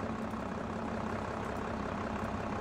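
Tractor engine in Farming Simulator 22 drones steadily at a low idle, a continuous heavy rumble with a faint steady hum, with no talk over it.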